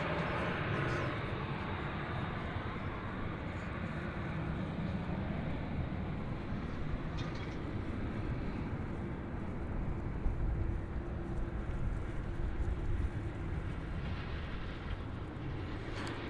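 An American Airlines airliner takes off from DFW Airport with a steady, broad, roaring jet rumble that holds at a moderate distance throughout.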